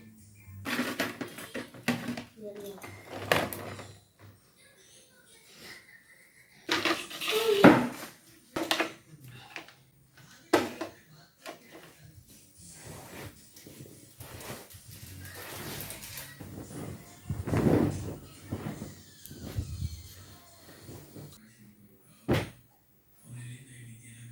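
Clean dishes are stacked away in a kitchen cupboard, with irregular clinks of plates and pans, cupboard doors knocking shut, and scattered rustling at close range, separated by quiet pauses.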